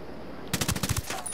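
Close, loud burst of submachine gun fire in Ghost Recon Wildlands, about eight rapid shots in a short rattling string.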